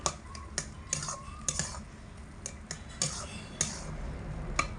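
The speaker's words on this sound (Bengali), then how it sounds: "এরকম খুন্তি দিয়ে একটু হালকা হাতে ঘেটে ঘেটে দিতে হবে যাতে করে মশলাটা আলুর মধ্যে খুব ভালো করে মেশে" Potatoes stirred with spices in a pan with a metal spatula: a string of sharp, light scraping clinks against the pan, spread irregularly, close and moderately quiet.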